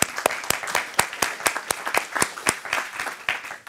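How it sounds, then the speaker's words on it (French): A conference audience applauding at an open source event, a run of sharp, evenly spaced claps that stay fairly close and steady before thinning out at the end. "Donc un applaudissement s'il vous plaît encore pour eux."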